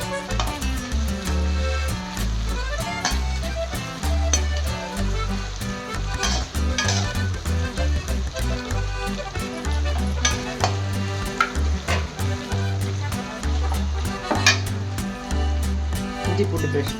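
A spoon stirs mint biryani in a kadai with repeated scraping and clanking strokes, set against steady background music that carries throughout.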